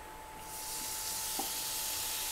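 Chopped tomatoes go into a hot pan with oil and Kashmiri chili powder while making macaroni, and the sizzle swells quickly into a steady, even hiss that carries on to the end, with a faint stir partway through.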